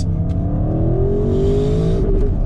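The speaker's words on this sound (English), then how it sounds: "when I drop this down to second gear like this and plant foot" An Audi RS6 Launch Edition accelerating hard on tarmac in second gear, its engine note climbing steadily into a loud, rising roar from inside the car before easing at the top of the pull.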